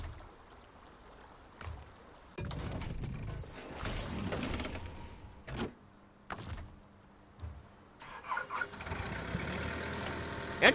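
A telehandler engine in the video game SnowRunner cranks and starts, with a mechanical click, a swelling rumble that settles into a steady idle, then sharp clunks and rising revs near the end. No one speaks.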